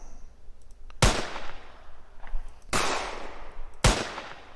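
Three sharp rifle gunshots in an Unreal Engine 4 game, each a loud crack with a decaying tail, spaced irregularly, with faint softer pops between them.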